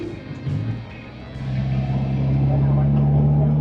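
A 1990 BMW fitted with a swapped SR20DET engine drives along, its low steady engine drone rising and holding strong as it pulls, heard from inside the cabin with a voice speaking over it.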